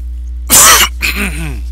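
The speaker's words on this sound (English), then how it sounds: "Pardon the coughing" Close, loud throat-clearing cough followed by a raspy voiced groan-like exhale, all within a second and a half over a low steady hum.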